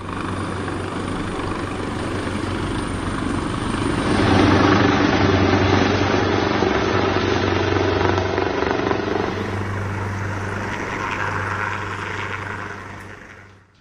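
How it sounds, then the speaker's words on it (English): Government helicopters deployed during deadly anti-government unrest in Nepal, a loud, continuous rotor and engine roar that swells midway and holds steady before fading slightly at the end, with no talk. "the government deployed at least 3 choppers to rescue ministers"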